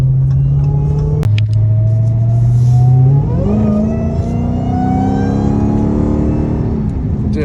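A Dodge Hellcat Redeye on a canyon road gives a loud, close engine drone, with a shift and then rising revs as it pulls along, sustained throughout.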